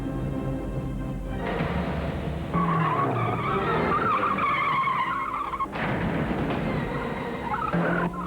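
A stunt driver pushes a car on Continental tires to the limit in a tire ad, tires skidding and squealing loudly in several long bursts over a running engine.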